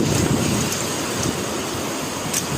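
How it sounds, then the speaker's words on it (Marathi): Heavy rain pours down near a hillside temple with water running, a dense, steady hiss that stays loud and even throughout with no voices. "पाऊस खूप जोर वाढला आहे पावसाचा."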